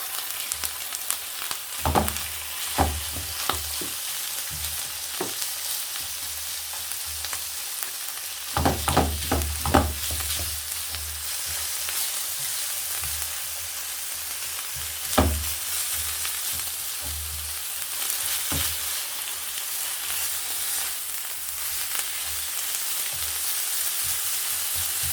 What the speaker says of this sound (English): I'll saute my onion, and once done, I'm gonna go in with my minced meat.